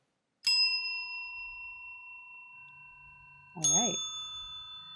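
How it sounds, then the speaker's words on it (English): Synthesized bell tones coded in Sonic Pi ring out at random times, two bright strikes each decaying slowly, with someone speaking briefly over the second. "I guess these are our haunted bells."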